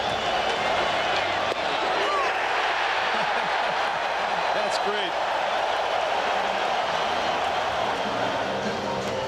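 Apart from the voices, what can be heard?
baseball stadium crowd cheering and applauding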